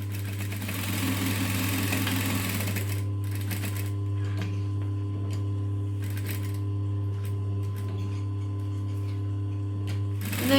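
A sewing machine runs a 2.5 length stitch around a small fabric box section of a diamond pouch, a busy rattling burst at first, then short stop-start runs of stitching over a steady low motor hum.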